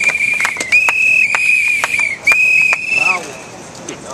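Sharp, high whistles blown at a press conference, several long shrill blasts in quick succession with brief gaps, loud and close over a crowd murmur.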